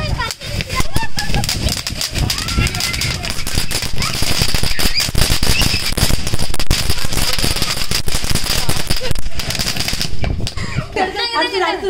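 Rapid strings of Diwali firecrackers crackle and pop loudly for about ten seconds outdoors in strong wind, dense bursts nearly continuous, then fade as scattered crackles and talking continue.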